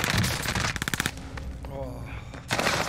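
Rapid automatic gunfire in the Call of Duty Warzone battle royale, a loud burst of quick shots followed by a quieter stretch with a brief voice, then another heavy volley at the end.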